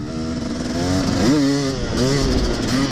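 A KTM 250 two-stroke Six Days enduro motorcycle pulls away, its buzzy engine rising and falling in pitch through several quick revs, loud and close throughout.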